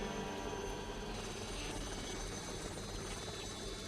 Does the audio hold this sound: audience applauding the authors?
no